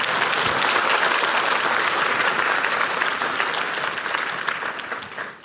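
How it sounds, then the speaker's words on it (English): Dense, loud audience applause at a health conference opening plenary, a sustained wash of clapping from a large crowd that holds steady and then tapers near the end. "A huge round of applause, please."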